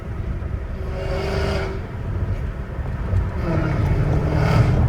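An 850 HP Dodge Challenger Hellcat Redeye accelerating in automatic mode through a neighborhood, with a deep engine roar that builds steadily under cabin and wind noise, without talk.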